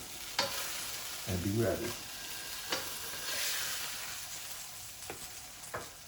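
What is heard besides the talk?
French toast frying in pan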